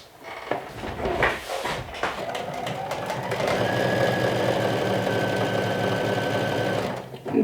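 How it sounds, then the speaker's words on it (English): A serger finishes the raw edge of woven shirt fabric: a few handling clicks and thumps, then a sustained, even mechanical whir that runs close and loud before stopping. "we're gonna run it quickly through the serger to finish the raw edge"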